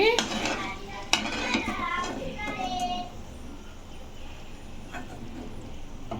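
Oora mirapakayalu, sun-dried village chillies, fry in a pan with soft sizzling and stirring scrapes, utensil clinks and a bright tap early on, under occasional voices.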